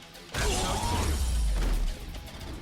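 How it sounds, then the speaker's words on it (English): Glass bottle shattering in the video game Like a Dragon Infinite Wealth, a sudden loud crash that lingers as a bright, scattered smash for over a second before dropping off. "Did I just throw a glass bottle basically at him?"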